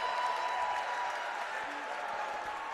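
Basketball crowd at a high school game between Paul VI and DeMatha, cheering a field goal: a steady, dense roar of applause and voices, sustained and fairly loud throughout with no pauses.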